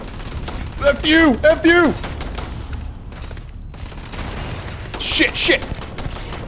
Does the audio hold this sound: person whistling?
no